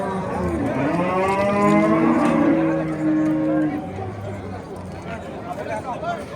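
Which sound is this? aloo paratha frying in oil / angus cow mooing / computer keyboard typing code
angus cow mooing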